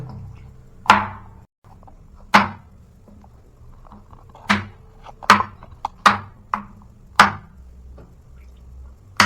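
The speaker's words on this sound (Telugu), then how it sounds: "ఇట్లా ఫస్ట్ ఇలా సన్న కట్ చేసుకోవాలబ్బా" A knife slicing okra thinly on a cutting board, sharp distinct chops spaced irregularly about a second apart, close and fairly loud over a quiet room with no talk.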